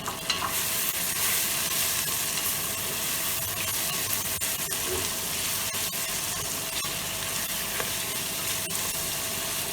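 Homemade tomato paste with chili flakes and peppers frying in a pan for Turkish dry bean stew, a continuous loud sizzle with occasional scraping and stirring clicks, no voices.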